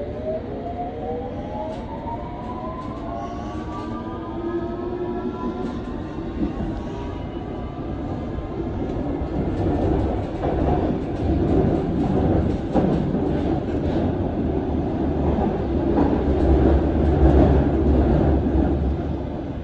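A London Underground Circle Line train runs between stations, a continuous loud rumble and rattle of wheels on track with a rising, whining motor tone early on that steadily builds in intensity.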